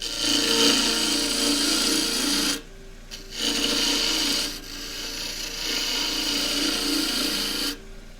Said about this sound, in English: pulling the gouge along like that, I get a little curly shaving coming off this part of the edge